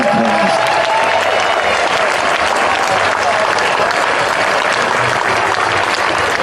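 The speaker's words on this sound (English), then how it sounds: "give them a huge round of applause" Audience applause at Blissfest 2016, an outdoor folk music festival, welcoming a tribute act to the stage, a dense, steady roar of clapping and crowd noise sustained throughout.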